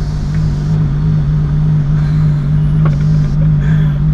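Ferrari LaFerrari engine idling in rush-hour traffic, a loud steady low-pitched rumble with a strong constant hum, close by and uninterrupted.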